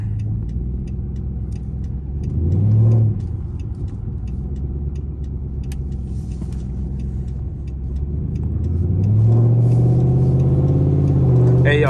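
Dodge Charger R/T fitted with longtube headers, driven at night on a cold evening; a deep, loud exhaust rumble holds steady, swells briefly, then rises into a stronger revving roar toward the end.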